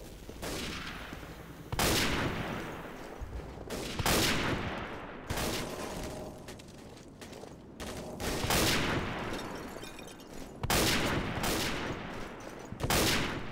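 Gunfire in the World War II shooter game Day of Defeat: Source, sharp loud bursts of rifle and machine-gun shots repeating every second or two with brief reverberant tails, no talking.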